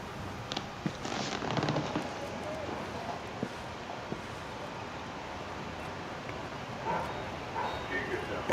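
Sumo, the large dog in the video game Detroit: Become Human, gives a few barks amid busy game sounds and background noise, with speech heard alongside.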